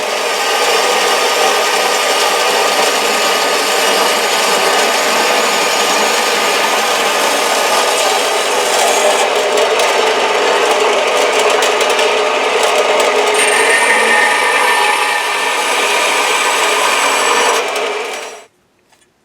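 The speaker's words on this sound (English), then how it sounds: "before I drill all these and get it wrong, I'm going to try one" A power drill whirs steadily and loudly for about eighteen seconds, grinding into material without pause, then cuts off abruptly.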